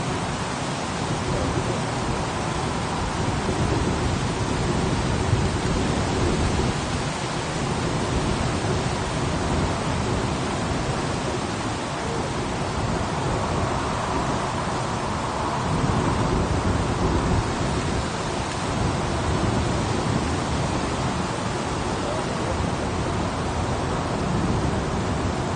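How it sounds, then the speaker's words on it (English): Steady rain falling at Manchester Airport, a dense, even hiss that holds without a break throughout, with no voices. "The rain is falling again, but again it's not a massive worry just yet."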